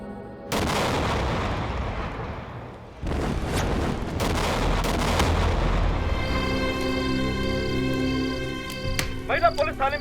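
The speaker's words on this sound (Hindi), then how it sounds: "महिला पुलिस थाने में हुआ बम ब्लास्ट।" A bomb blast at a women's police station in a Hindi TV drama: two heavy, booming explosions with long roaring decays, followed by dramatic music and sharp stings.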